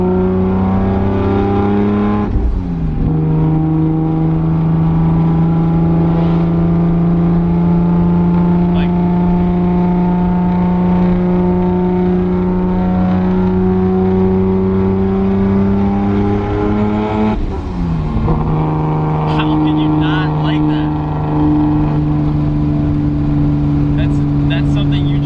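A 900-horsepower MK4 Toyota Supra drives with a loud, steady engine drone that shifts pitch abruptly twice, as if changing gear, and stays close and continuous.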